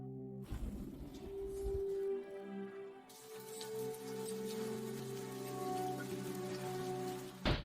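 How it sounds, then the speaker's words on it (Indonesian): Rain pours steadily onto surfaces as a dense, continuous hiss with scattered drop patter, starting abruptly after a brief quiet and holding at an even, close level throughout. "Akan hujan."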